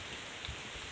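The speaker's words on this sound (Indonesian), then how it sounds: "hujan-hujan gini dan berkabut" Rain falls steadily on a foggy mountain trail on Gunung Mongkrang, a faint, even hiss of drops with no talking.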